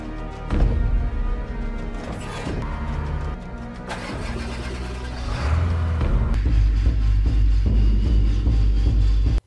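A car in a film scene drives off, its mid-pitched engine starting and revving over a tense music score, growing louder and steadier toward the end.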